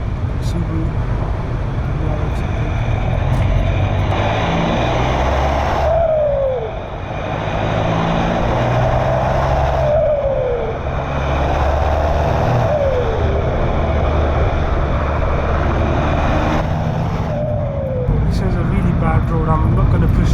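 VW Golf MK5 PD150 diesel with a new exhaust driving on the road, steady loud engine drone with several rising turbo spool sweeps and whooshes as it accelerates through gears, heard from inside the car.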